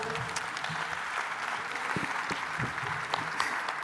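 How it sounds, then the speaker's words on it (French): A conference hall audience at a union congress claps, a dense, steady round of applause with scattered sharp individual claps. Faint low murmurs run beneath it. "Des applaudissements, bravo."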